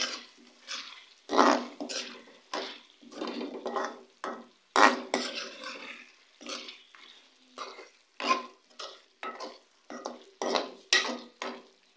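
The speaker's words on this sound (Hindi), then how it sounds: "अब मैं इसमें ऐड करूँगी एक चम्मच गरम मसाला पाउडर मिक्स करेंगे" Garam masala powder stirred into bhuna chicken in a pan, a series of irregular spoon scrapes and knocks against the metal, each a short burst over a quiet, faint sizzle.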